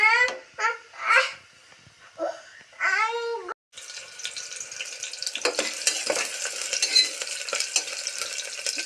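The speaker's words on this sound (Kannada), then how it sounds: "ಈರುಳ್ಳಿ ಬೇಯ್ತೈತೆ." Onions fry in a pan for a village-style ghee rice bath, a crackling sizzle that begins about midway and continues steadily. Voices come in short bursts before it starts.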